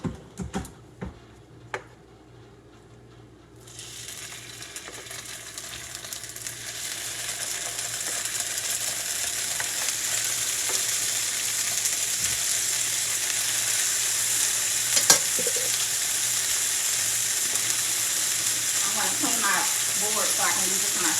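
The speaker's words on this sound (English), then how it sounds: "So let's put our skewers into our" Chicken kabob skewers hitting a hot pan and sizzling: a few clicks and knocks first, then a sudden loud hiss that keeps building into a steady frying roar, with a voice talking briefly over it.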